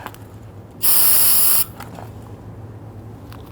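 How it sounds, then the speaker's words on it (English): One loud, steady hiss of brake solvent from an aerosol can lasting under a second, close by, with quiet room noise before and after. "And spray that out."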